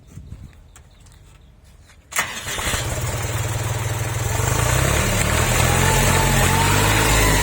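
A 50-horsepower three-cylinder tractor engine cranks and catches after two seconds of quiet clatter, then settles into a loud, steady diesel chug that grows slightly heavier.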